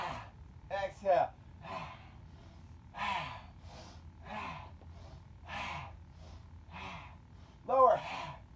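A yoga class breathes together, with a series of audible exhales and sharp breaths repeating at a slow, even rhythm, close and moderately loud.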